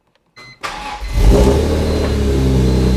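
A BMW E46 M3 with its S54 engine cranks briefly, catches and fires up, then revs and settles into a loud, close, steady run.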